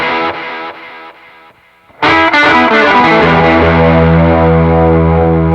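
Electric guitar run through distortion into a Belle Epoch echo pedal: a quieter, fading run of dirty notes with trailing repeats, then a loud saturated chord that rings on thickly, smeared by echoes.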